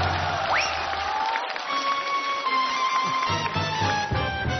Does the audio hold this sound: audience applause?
yes